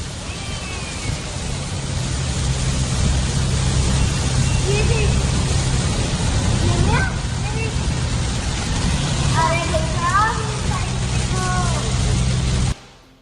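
Heavy rain in Dubai drums steadily on a car from inside the cabin, a dense broadband wash, with faint tonal chirps partway through before it cuts off.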